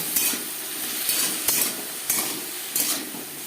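Vegetables, including carrot salted to taste, sizzle in a pan for navratan korma while a spoon scrapes through them in about five evenly spaced strokes over a constant frying hiss.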